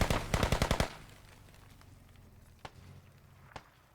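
A rapid burst of about eight gunshots rings out in the video game Squad, followed by quieter background rumble and two isolated distant shots.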